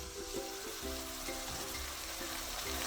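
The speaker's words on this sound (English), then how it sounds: "I'm going to throw it inside, and then I let it fry along with the onions" Curry leaves frying with onions in a pan, a soft steady sizzle with faint stirring and clinks, fairly quiet with no talking.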